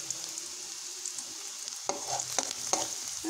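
Onion frying in hot oil with mustard seeds for a yam stem thoran gives off a steady bright sizzle, joined near the end by a few sharp stirring clinks and crackles.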